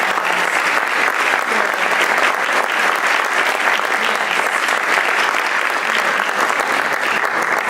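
Sustained, loud applause from an annual meeting audience fills the room steadily from start to finish, a dense wash of clapping with no break.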